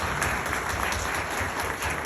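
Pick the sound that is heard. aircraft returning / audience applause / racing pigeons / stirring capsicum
audience applause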